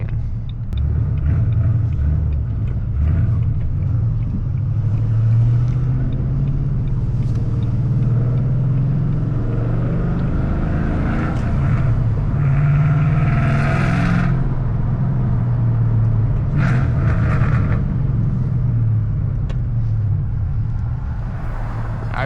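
A loud, untuned Ford Mustang GT engine gives off a deep, steady rumble that holds near and heavy for the whole stretch, with a raspy edge and brief higher bursts.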